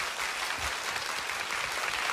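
Audience at a festival event applauding to welcome a guest onstage, a brief burst of thick, continuous clapping at a steady level, slightly distant.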